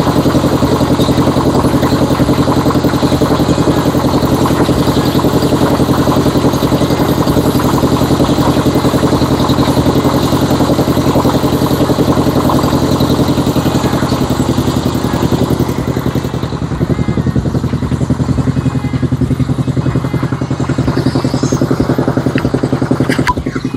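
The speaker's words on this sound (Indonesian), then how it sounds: "Ini adalah mesin extruder tipe 100 ya, tipe 100 kilo" Type 100 fish feed pellet extruder machine fired by a fuel stove, running with a loud, steady mechanical drone that continues unbroken with no speech.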